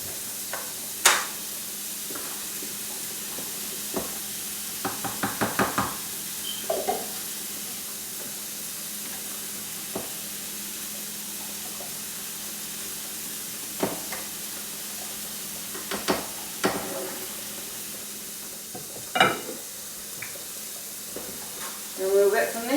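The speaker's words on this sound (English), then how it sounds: "now I'm going to add in my simmered spaghetti sauce on top." Simmered spaghetti sauce spooned onto spaghetti squash in a hot pan, a loud continuous sizzle with bursts of bubbling and clattering scrapes scattered throughout, close up and without talk.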